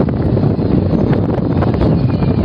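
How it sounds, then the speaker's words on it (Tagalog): Steady wind buffets the microphone at the top of a Ferris wheel in a theme park, a constant low roar and rumble, no voices, just blustery gusting throughout. "So, we're here at the top of Ferris wheel. So, mahangin."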